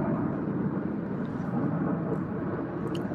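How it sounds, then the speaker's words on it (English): Several airplanes, three or four at once, fly overhead, making a steady, dense, rumbling roar that fills the whole stretch without a break. "You hear those planes? It's about 3 or 4 of them here, a few of them over there."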